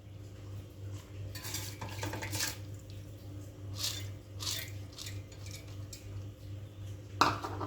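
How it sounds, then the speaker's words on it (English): Soaked rice is added into milk in a pot on a low flame for kheer, with soft scraping, stirring and wet clinks of a spoon against the metal, faint and close, over a low steady hum. "So we'll add the rice into that milk."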